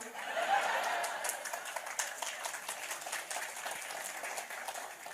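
An audience claps in a sustained, crackling wash of applause, moderately distant and fairly soft throughout.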